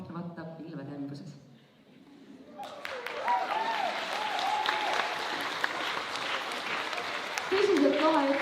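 A school audience at a playback show applauds the 6th grade after their performance, with a short voice before loud, sustained clapping that swells and carries through to the end, mixed with cheering.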